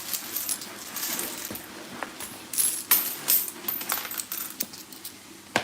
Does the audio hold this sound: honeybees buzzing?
no